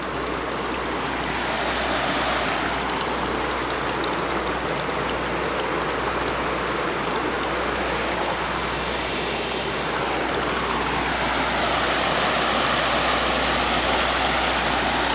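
Water seeps and leaks through a river diversion dam on the Weiser River, a steady rushing and trickling flow that runs continuously and fairly loud throughout, with no talk.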